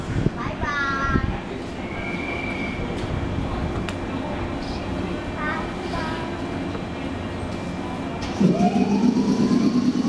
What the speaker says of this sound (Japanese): 1番乗り場の団体専用列車が発車いたします。